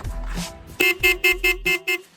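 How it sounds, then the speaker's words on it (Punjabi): An aftermarket Roots horn fitted on a Hero Splendor motorcycle sounds in six short, loud, evenly spaced honks after a brief low rumble. "ਹਾਰਨ ਵੀ ਲੱਗਿਆ ਰੂਟਸ ਦੇ"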